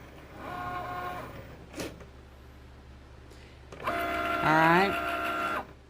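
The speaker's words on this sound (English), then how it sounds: "once Cricut's done, it's going to slide your mat just like this" A Cricut cutting machine runs and slides the cutting mat out, giving a whirring motor hum with a short clack in the middle, then a louder stretch of rising mechanical whine. A person speaks briefly.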